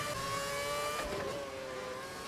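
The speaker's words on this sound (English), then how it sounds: "Drag race between myself and Kobayashi" Race cars in a racing video game accelerate side by side, a sustained high engine whine with a short pass-by swell midway, steady and without talk.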